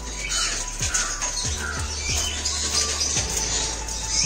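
Pet birds in an aviary chirp and squawk in a busy, overlapping chorus, with a few soft fluttering wing sounds and low thumps beneath. No one speaks.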